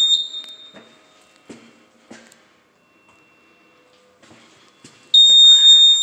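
A fire alarm gives short, faint tonal chirps among light knocks and rustling. It ends in a loud, sustained high-pitched beep.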